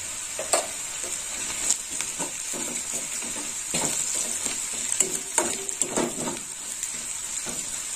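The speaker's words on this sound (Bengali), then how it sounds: "আদাটা একটু ভালো করে ভাজা হোক। চিংড়ি মাছের জন্য কালো হয়ে গেছে।" Ginger and shrimp fry and get stirred in a pan for shrimp dal, a steady close sizzle broken by repeated scraping strokes of a spatula, with no talk.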